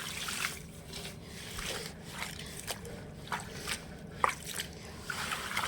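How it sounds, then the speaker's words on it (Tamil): Spinach leaves rinsed by hand in water, with quiet, scattered splashes and drips coming in short bursts over a steady low background. "ஒரு பூச்சி போட்டி இல்லாமல் நல்லா அலசி எடுக்கணும் கீரையை"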